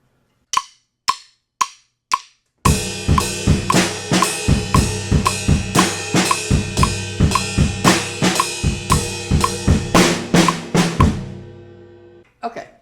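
Electric guitar plays the chorus of a rock song at 115 bpm: a few sharp count-in clicks, then steady driving strummed chords with rhythmic accents, loud and close, ringing out at the end.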